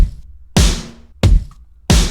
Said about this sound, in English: Now for the drums, lots of loud acoustic sounding kicks and snares.